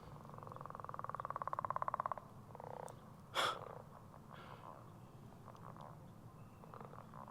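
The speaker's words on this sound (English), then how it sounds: "Do you guys hear all those frogs croaking?" Frogs croak in spring near the water during a kayak and paddleboard fishing outing, a close rapid pulsing trill for about two seconds, then scattered fainter croaks and a brief splashy rustle against quiet outdoor ambience.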